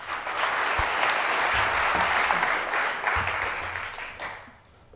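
A seated audience applauds a radio board leader at a press freedom event. Full, sustained clapping holds for about four seconds, then thins and fades quickly into near silence.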